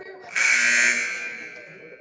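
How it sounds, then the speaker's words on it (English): A loud electronic buzzer sounds once in a gymnasium during a sports game, holding for about half a second and then fading out. "that's the buzzer"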